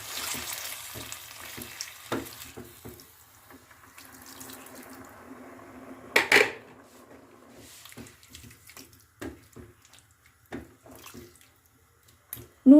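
Hot water is poured into a pan of neem shukto, a soft hissing splash at first that gives way to quiet sizzling and bubbling, broken by a few sharp clatters of utensils against the pan.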